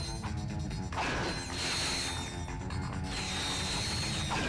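Bolts being collected in the video game Ratchet and Clank: Going Commando, a dense stream of metallic clinking and rattling pickups layered over game music and mechanical effects, continuous and fairly loud.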